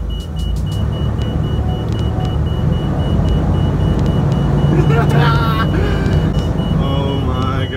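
A converted police bus RV pulls away from a stop, its low vehicle rumble steady and close throughout, with a few brief whining mechanical tones rising near the end.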